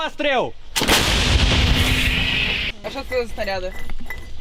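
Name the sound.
howitzer artillery firing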